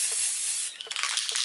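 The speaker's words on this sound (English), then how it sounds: "so I'm just going to spray this." White spray paint hissing from an aerosol can onto a mirror frame: a continuous close spray for most of the moment, then short sputtering bursts as the nozzle is pressed and released.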